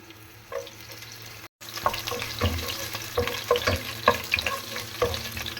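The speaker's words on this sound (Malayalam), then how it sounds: "ഓയിലൊന്ന് ചൂടാവട്ടെ അതിനുശേഷം നമുക്ക് ഒരു രണ്ട് മൂന്ന് ഗാർലിക്കാണ് അത് ഇതിലോട്ട് ആഡ് ചെയ്യാം" Finely chopped garlic sizzles in hot oil in a pan for quick noodles, a close frying hiss broken by a brief silent gap, then rhythmic stirring scrapes over the steady sizzle.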